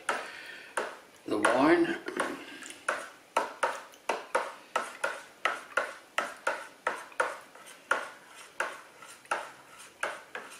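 Homemade Merlot from a Solomon Grundy 30-bottle wine kit is stirred in a bucket, giving a steady run of rhythmic knocking scrapes and pings that repeat about twice a second, with brief talk near the start.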